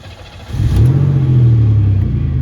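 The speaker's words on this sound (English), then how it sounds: "Our car's running." A 1991 Buick engine cranks briefly, catches and settles into a steady, close idle after fuel system service, with no voices heard.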